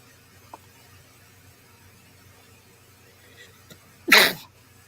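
One sudden, close sneeze bursts out near the end, after a few faint clicks and a quiet background.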